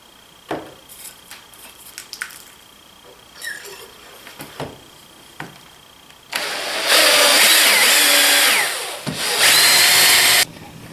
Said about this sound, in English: and drill my next hole here.